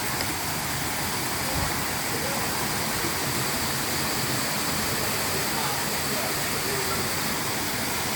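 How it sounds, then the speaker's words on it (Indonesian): Sumuran waterfall (Selogriyo) pours in a constant broadband roar, steady and close with no pauses, water rushing the entire time. "Ini sudah sampai air terjun Sunguran"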